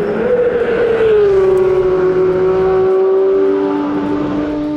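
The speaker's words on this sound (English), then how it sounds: "Blasting around Silverstone, the GT3 RS felt super glued to the tarmac." A 2022 Porsche 911 GT3 RS driven hard around Silverstone. The engine holds a loud, close, sustained high-revving wail, and its pitch eases down steadily through a long pull with no breaks.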